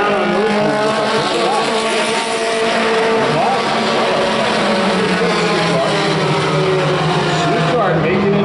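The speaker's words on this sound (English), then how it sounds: "Shukar making it work through the corners with the front wheel drive Rabbit" Race cars roar through the corners, including a front-wheel-drive Volkswagen Rabbit, their engines a loud continuous howl with shifting pitch, under a commentator's steady talk.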